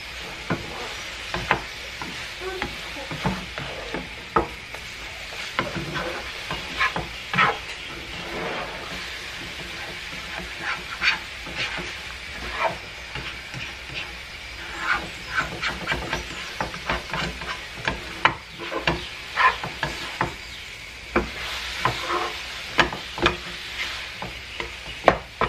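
Scrambled eggs frying in a pan, made fluffy with added milk: a steady soft sizzle runs throughout, broken by frequent scraping and tapping as a utensil stirs and pushes the eggs, close and without talking.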